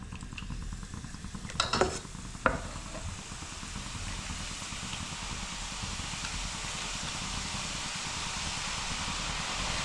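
Boondi, small drops of batter for laddu, frying in hot oil: a steady, continuous sizzle throughout, with a couple of brief clinks of a utensil near the start.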